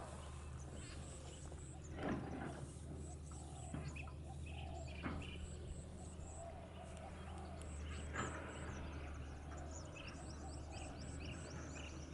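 Several birds chirp and tweet in repeated high, quick bursts, fairly faint against a steady low hum, with occasional soft knocks in the background.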